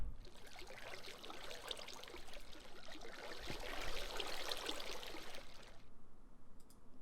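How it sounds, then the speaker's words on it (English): Water in a video game pours and splashes as it is scooped with a bucket, a steady trickling rush for about six seconds that cuts off abruptly to near quiet. "Let's go ahead and grab a bucket and go ahead and try to clean up some of this water."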